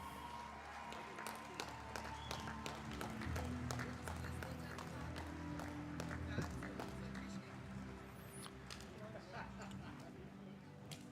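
A crowd claps and applauds steadily at the STIHL Timbersports German Pro Championship 2023 during a placings announcement, a dense patter that runs throughout beneath an announcer's voice.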